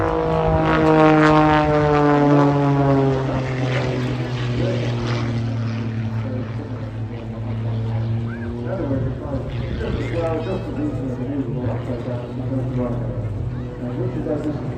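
A 1960s aerobatic propeller plane with a 180-horsepower engine and a symmetrical airfoil drones loudly overhead at an airshow, its pitch sliding down as it passes, while a commentator talks throughout.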